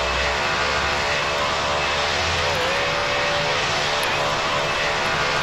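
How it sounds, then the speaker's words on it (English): A Qantas Boeing 737 airliner in a flight simulator game roars steadily through its takeoff run, a continuous broad engine rush with a low rumble that fades partway through, and no voices. "Take off."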